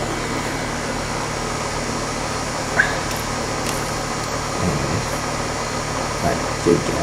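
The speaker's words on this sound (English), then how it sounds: "My air conditioner is going off right outside my window." An air conditioner runs just outside a window, a steady, even hum and whir that fills the whole stretch at moderate loudness, with a couple of faint clicks over the drone.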